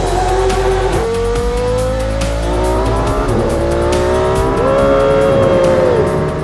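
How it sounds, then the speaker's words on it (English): A Formula 1 race car screams at high speed, its engine note climbing through rapid gear changes with sharp shifts and a sustained high-pitched whine, loud and close throughout with no voices. "Now they have to prove themselves in an F1 car."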